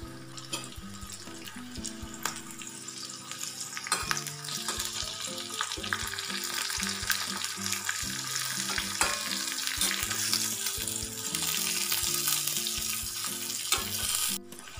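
Slit green chillies fry in oil with a constant crackling sizzle and occasional stirring clatter, close and steady, over a soft melodic background.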